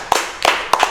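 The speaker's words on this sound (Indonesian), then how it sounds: "Tepuk tangan dong." A few people in a studio clap close and loud, in three separate short bursts of two quick claps each over a second.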